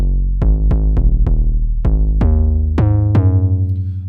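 An 808-style bass built in Ableton Operator plays a sequence of eight punchy deep notes with bright clicky attacks and long sustaining tails, loud and dry with no talking.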